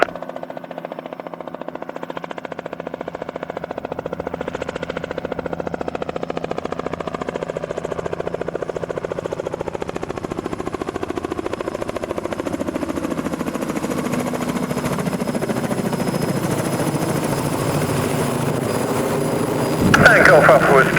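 A helicopter lands at an airfield on a windy day, its rotor and engine a steady loud drone that builds slightly, with wind gusts buffeting near the end.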